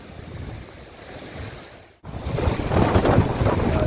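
Strong sea waves surging and crashing along a Bicol shoreline where fishing boats have been pulled ashore, a steady roar of surf that dips briefly, then swells louder and rougher, with wind buffeting the microphone.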